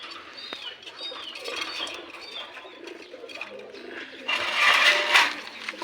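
Pigeons in a breeding pair's coop, cooing softly with scattered chirps, then a burst of wing flapping near the end, close and without talk.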